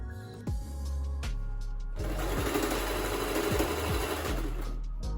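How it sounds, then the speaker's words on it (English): A sewing machine stitches fabric for a scrunchie, its motor running in a steady, close mechanical whir with rapid needle chatter, starting after brief pauses and then running continuously for several seconds. "So I'm pulling it out, and I'll continue sewing."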